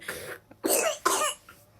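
A baby sick with flu gives a few harsh, wet coughs in quick succession, close to the mic, separated by short pauses with no other sound.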